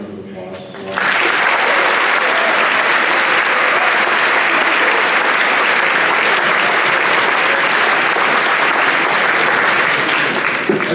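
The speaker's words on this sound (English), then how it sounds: "he deserves a huge round of applause as well." Applause fills a high school auditorium at an event introducing an incoming president, starting about a second in, then holding as a loud, sustained, dense clapping for the rest of the clip.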